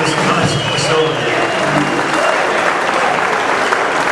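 Steady, dense audience applause inside an El Paso facility, a continuous wash of many hands clapping at even loudness throughout.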